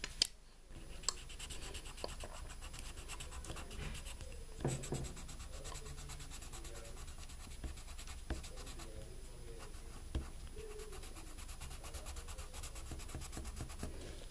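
Colored pencil strokes fill in a panda's ears on paper, a soft, close, steady scratching with repeated back-and-forth rhythm and no talk.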